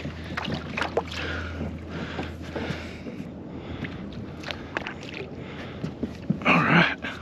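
Someone climbs into a pedal drive fishing kayak on a muddy shore, with scuffs, hull knocks and a splashy rustle near the end over light wind noise.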